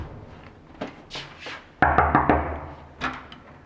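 A door is shut with a sharp thud followed by a few rattling knocks, set among softer shuffling sounds; no one speaks.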